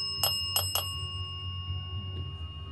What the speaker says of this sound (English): She loves the bell.